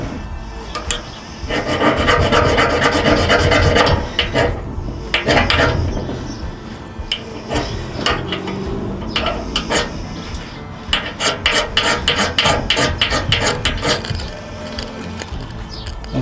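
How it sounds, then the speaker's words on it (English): A scraper is drawn repeatedly along a ferro rod from a pocket fire kit, giving close, rasping scrapes in uneven runs, some longer and some quicker, with short breaks between them. "we'll try and take the spark off the ferro rod with the scraper that comes with it"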